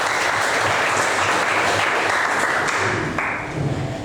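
Dense, steady applause fills the room during a coding lesson, many hands clapping together at a loud, even level before easing off slightly toward the end.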